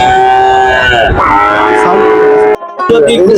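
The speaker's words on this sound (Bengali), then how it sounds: "দেখতে পাচ্ছেন এগুলো বাছুর। বাছুর কিন্তু এখানে ক্রয় বিক্রয় হয়ে থাকে।" Drawn-out moos of calves sound loudly and close, overlapping one another amid a bustling crowd at the Bera cattle market in Pabna, Bangladesh, with voices in the background.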